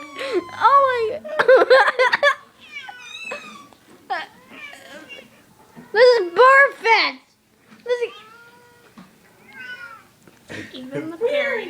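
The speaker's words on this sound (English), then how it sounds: "Look at all those cats!" Several house cats meow repeatedly, with rising and falling cries coming in bursts close by, and excited human talk mixed in between and over the calls.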